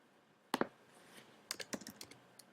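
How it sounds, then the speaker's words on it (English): Someone types a search on a computer keyboard: a quiet, close-up run of light key clicks, with two quick taps first and then a faster cluster of keystrokes. "I type that into the search field."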